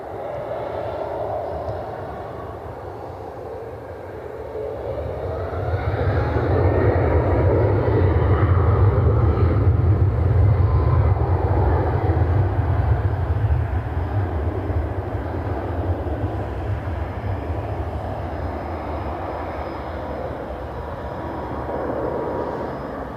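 At Cleveland Hopkins airport, a CRJ regional jet's engine roar builds from a low rumble to a loud, sustained peak, then slowly fades back to a distant hum.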